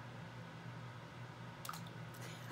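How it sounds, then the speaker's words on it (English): A small eraser drops into water with a faint, brief plop and splash, followed by soft dripping against a low, steady background hum. "I'm going to put my desire to change into this eraser and put it in the water"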